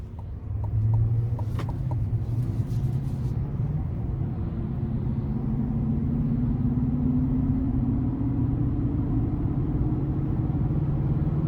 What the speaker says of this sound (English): let's go ahead and take this 2023 Silverado ZR2 out on the road for a quick test drive